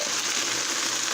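Kielbasa fries in a pan for sloppy kielbasa, giving off a steady, dense sizzle throughout the short stretch, with no talking.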